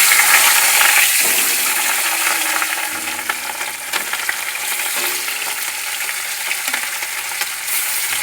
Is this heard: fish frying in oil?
yes